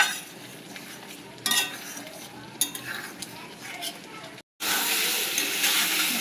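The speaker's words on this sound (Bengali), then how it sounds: "ভেজে রাখা আলু দিয়ে আবার আমি একটু ভালো করে কষিয়ে নেব" Fried potatoes are stirred and sautéed in a pan: scraping and clinking strokes come in bursts over a soft sizzle, a brief drop to silence, then a brighter, louder frying hiss.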